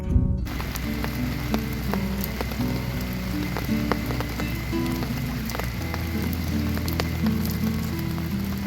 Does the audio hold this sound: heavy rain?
yes